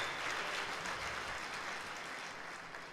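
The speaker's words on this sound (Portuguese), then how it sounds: "Dá um aplauso a ele" A church congregation at a Sunday service applauding, a dense wash of clapping that stays fairly even and slowly softens, heard somewhat distant.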